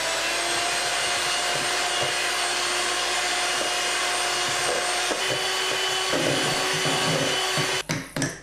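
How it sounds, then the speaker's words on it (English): Electric mixer whipping cream with icing sugar on high speed for tiramisu, a loud continuous motor whir with a steady hum that holds throughout and briefly rattles near the end, no talking. "Start off by whipping the cream with the icing sugar, just until it's very, very soft."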